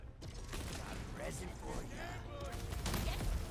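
Turret gunfire in the video game Arknights: Endfield, a dense steady mix of rapid shots and mechanical clatter running throughout, loud and continuous, with a voice talking over it.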